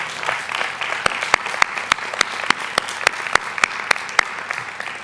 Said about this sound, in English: They certainly deserve one more round of applause for all their achievements.